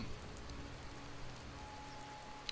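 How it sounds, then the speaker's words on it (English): Rain falls in the video game Skyrim, a soft, even hiss of drops with a low ambient hum underneath, steady and fairly quiet for a couple of seconds. "Getting rained on a little bit"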